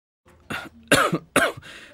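A person gives several harsh, close coughs in quick succession, loud and alone with no talk over them.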